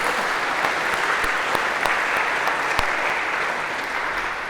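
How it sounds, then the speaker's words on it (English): Lecture-hall audience in a Harvard CS50 class applauding two volunteers as they come down to the front, steady dense clapping from many hands throughout with no talk over it. "maybe a round of applause to break the ice for these 2"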